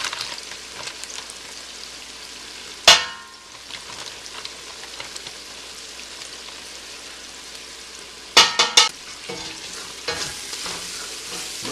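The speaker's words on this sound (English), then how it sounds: "I'm constantly stirring this, so since I'm using it on high heat" Flour is stirred into a cream of potato soup base with bacon over high heat, a steady sizzle with loud scraping clanks from the spoon at a few moments and no speech.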